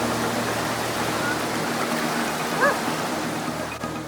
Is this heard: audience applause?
no